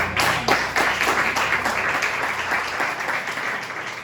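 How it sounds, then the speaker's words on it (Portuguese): Church congregation bursting into applause during a sermon, brisk clapping from many hands that starts strong and continues steadily, fairly close and without talk over it. "Quem entendeu? Dá um aplauso."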